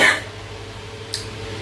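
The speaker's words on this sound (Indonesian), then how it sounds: "bahkan sampai batuk gua." A single short cough at the start, followed by quiet background noise and a faint brief sound near the end.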